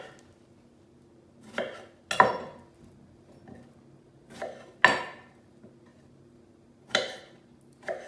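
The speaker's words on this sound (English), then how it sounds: "And now we're going to cut them into fourths," A knife cutting fruit into fourths on a cutting board, sounding as four separate close, crisp chops spaced a couple of seconds apart over a quiet background.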